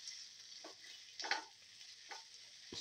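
Curry leaves go into a hot pan of spicy bitter gourd and fenugreek leaf stir fry, making a soft steady sizzle with a few brief crackles and stirring scrapes, quiet and close, with no voices.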